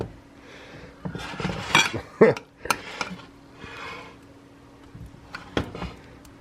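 A utensil spreads White Castle dip across a dish, making irregular scrapes and clinks of metal on the dish. The sounds are close, come in short bursts and pause between strokes.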